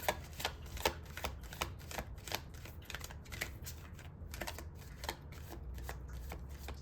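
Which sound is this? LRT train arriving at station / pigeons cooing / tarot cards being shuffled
tarot cards being shuffled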